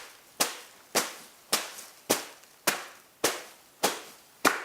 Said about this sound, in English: The shelling of the pods can either be done pod by pod, or you can beat them with a stick